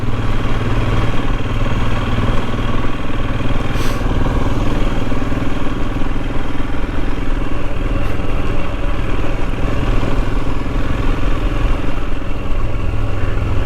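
Royal Enfield Himalayan motorcycle being ridden, its engine droning loudly and steadily throughout with constant wind and road rumble and no break in the noise.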